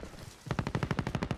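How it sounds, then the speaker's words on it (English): Rapid burst of gunfire in the PUBG battle royale game, about a dozen sharp evenly spaced shots following a brief quiet lead-in, loud and close with no talking. "I just got sniped at"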